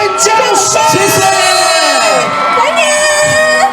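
A large audience at an outdoor Lantern Festival concert in Yangmei cheers, whoops and yells loudly and continuously to welcome a singer, and voices can be heard in the crowd noise.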